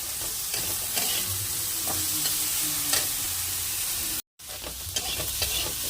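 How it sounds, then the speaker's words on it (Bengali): Eggplant fries in a pan with a steady, close sizzle and crackle of oil, broken by a few occasional stirring scrapes and one short moment of silence near the end. "বেগুনটাও ভাজা হয়ে গেছে"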